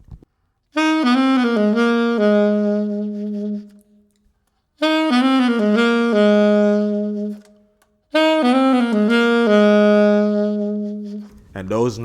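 A saxophone plays a smooth-jazz run leading into the chorus of a song, three near, clear phrases of falling and settling notes, each separated by a short silence.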